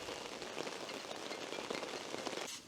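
Rain drums steadily on tents at a remote fishing camp, a dense, close hiss of pattering drops that fades slightly at the end.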